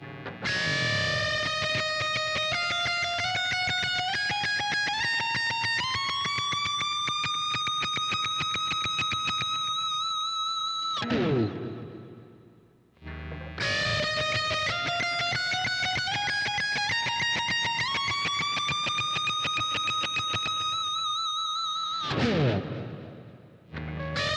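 A distorted electric guitar plays a fast, sustained solo lead phrase with rising bends, played twice with a short gap between, loud and up close.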